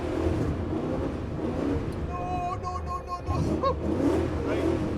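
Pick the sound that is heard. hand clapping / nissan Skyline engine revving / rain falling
nissan Skyline engine revving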